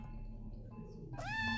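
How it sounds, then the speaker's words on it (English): A cat meows once in the video game OFF, a single clear, bending call near the end, preceded by quiet low game ambience. "That was a cat."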